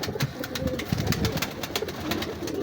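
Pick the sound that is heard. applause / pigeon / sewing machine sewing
pigeon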